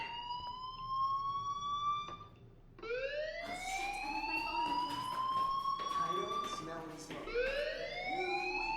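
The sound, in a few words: school fire alarm ringing in the video game Life is Strange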